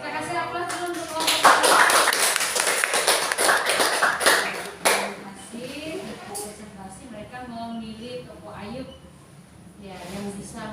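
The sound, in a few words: applause for a presenting group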